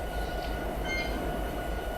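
Train passing in the Train Simulator 2019 video game, a continuous rumbling rattle of rail cars rolling by at steady volume, with faint high squealing tones and no talk.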